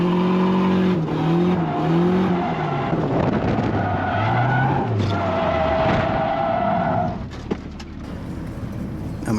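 A Nissan 300ZX drifting on a race track loses grip and spins out, with loud, close tire squeal wavering through the slide under a steady engine drone, then fading near the end.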